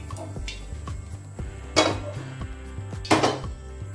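A metal kadai (wok) is picked up and set down in a home kitchen: a few sharp clanks and a louder scraping clatter near the middle and end, over low steady background hum, close and alone.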